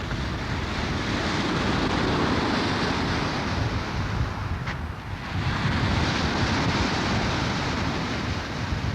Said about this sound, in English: These are the waves coming in right behind our trailer now.